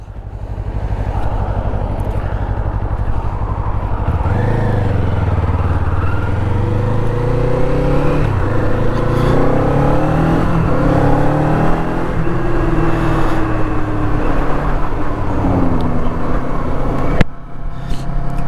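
A Kawasaki Eliminator motorcycle engine drones loudly and steadily, its pitch rising and falling as the rider shifts and accelerates, with constant wind noise.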